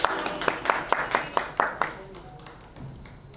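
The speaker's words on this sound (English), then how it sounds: "With a huge round of applause, let's welcome her." Applause at an app launch event as an actress is welcomed: quick, even clapping, about eight crisp claps in a steady rhythm, then fading into a low murmur of voices.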